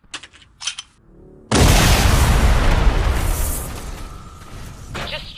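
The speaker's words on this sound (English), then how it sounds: "Explosion." A loud cartoon explosion sound effect from the animated series Red vs Blue bursts in after brief voice sounds and roars on as a sustained, booming rumble that slowly fades.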